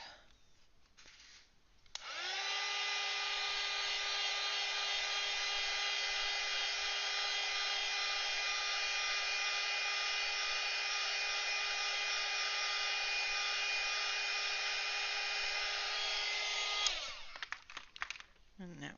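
An electric hair dryer drones on the artwork for about fifteen seconds, a loud steady whine that starts abruptly and cuts off near the end, with no talk over it.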